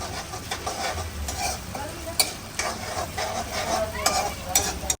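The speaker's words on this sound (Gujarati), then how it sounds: "હવે આપણે નાખશું ટમેટા. આને હે ને ફૂલ પકાવવા દઈએ આપણે, જ્યાં સુધી ગ્રેવી એકદમ કમ્પ્લીટ ના થાય ત્યાં સુધી." Tomatoes cooking down in a gravy in a pan, a soft bubbling sizzle with scraping stirs and clinks, fairly quiet, with faint background clucking.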